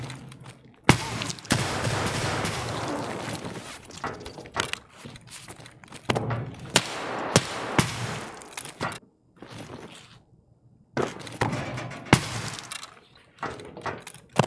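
Saiga shotgun loaded with buckshot firing in a video game: loud, sharp blasts at uneven intervals with shattering impacts and brief quiet gaps, while voices call out faintly.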